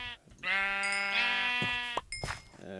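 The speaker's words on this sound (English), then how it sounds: "So, we'll just get rid of these sheep." Sheep in Minecraft snapshot 12w38a/12w38b bleat, a long wavering bleat followed by a shorter second one, close and clear with no talking.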